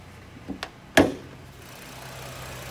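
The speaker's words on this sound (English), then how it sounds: "Now, I have the car running. I want you to see this is a six-cylinder engine." The six-cylinder engine of a 2011 Ford Edge Sport SUV idles as a quiet, steady low hum, broken early by a few sharp clicks and one louder knock before settling into an even drone.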